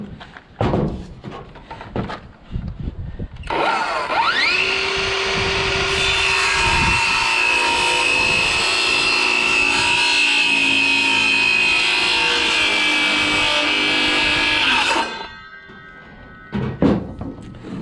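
A power saw cuts pine window trim with a sustained, steady high whine that lasts about eleven seconds, loud and close, bracketed by knocks and handling clatter before and after.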